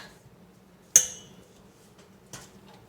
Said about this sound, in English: I'm going to use my fork to mix up as much of this as I can